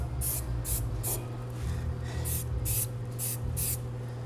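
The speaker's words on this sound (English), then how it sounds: "as you spray, unless you're a really good shot with a aerosol can" An aerosol can sprays near a car wheel rim in short repeated bursts, about eight hissing puffs in a loose rhythm, fairly close over a low background hum.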